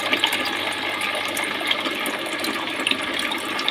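Water pours steadily from a homemade rooftop water feature driven by a motor, a continuous close splashing rush with no voices over it.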